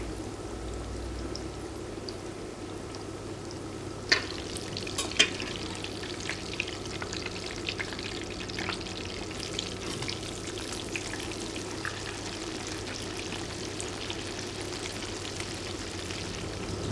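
Swordfish schnitzel fries in oil with a steady, moderate sizzle and a few brief pops and spatters, and no one talks.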